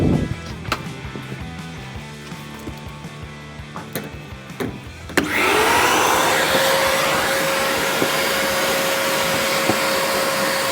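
A vacuum cleaner hoovers up sanding dust in a van conversion. Quieter scraping and handling noises come first, then the motor surges on with a loud, steady roar and a sustained whine, close up and with no talking.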